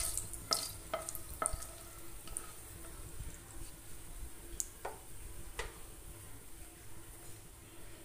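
Whole cinnamon, black pepper, green cardamom and cloves sizzle softly in hot oil, a quiet crackle with scattered sharp pops and ticks, no talking.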